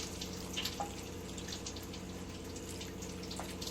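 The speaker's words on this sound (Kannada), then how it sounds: "ಇದಕ್ಕೆ 2 ಕಪ್ನಷ್ಟು ನಾನು ನೀರು ಹಾಕ್ಕೊತಾ ಇದ್ದೀನಿ" Two cups of water being poured into cabbage curry in a pot, a faint, steady watery trickle with light drips over a constant low hum, heard at a distance with no talking.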